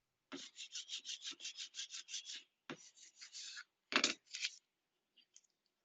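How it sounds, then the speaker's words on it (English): Sanding a craft project by hand, heard as about a dozen quick, even rasping strokes in a row, then a pause and a few shorter bursts, close and alone before it trails off into quiet. "There, I sanded."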